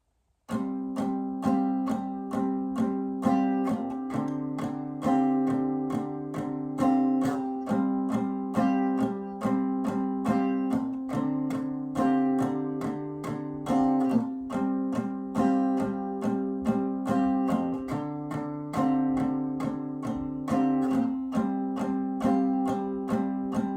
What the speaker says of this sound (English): Same strumming pattern, 8 down strums